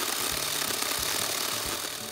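Sharp chainsaw cutting relief cuts in a grid across a tree stump, throwing chips, a loud continuous snarl with slight pulsing dips as the blade works the wood.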